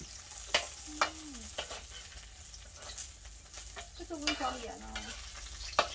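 A fried egg, mackerel and beef sizzle in a pan, with a continuous close frying hiss, spatula scrapes and light knocks. A few brief tonal squeaks sound over the frying.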